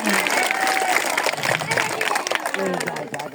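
Applause for a child reciting a poem at a morning school event, dense clapping filling the whole stretch at steady loudness, with crowd noise and voices mixed in.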